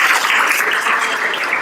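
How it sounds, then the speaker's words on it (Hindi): An audience at a Hindi spiritual lecture clapping, a brief, loud and even burst of many hands close by. "सबके लिए तालियां जोर से।"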